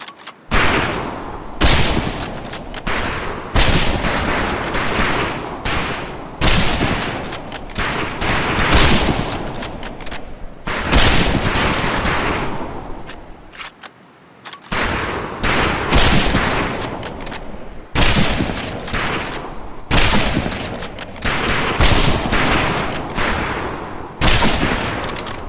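Rifle fire on a military training range in the Medal of Honor video game: loud, rapid volleys of gunshots in dense bursts over about twenty-five seconds, with one short lull near the middle.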